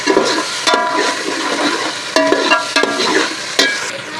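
A spoon stirs homemade ground biryani masala into chicken tikka biryani in a pot, with a soft frying hiss broken by several sharp metallic scrapes and clanks at uneven intervals, up close and without talk.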